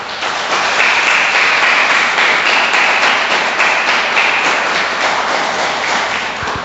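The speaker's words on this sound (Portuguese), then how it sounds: "Você pode aplaudir a Deus?" A church congregation applauding God during a sermon: loud, sustained clapping from many hands that runs unbroken from start to finish.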